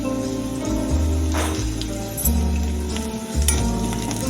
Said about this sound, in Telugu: ఇప్పుడు మనం కరివేపాకు వేస్తున్నానండి.